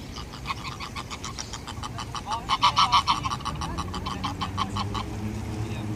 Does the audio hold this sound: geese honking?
yes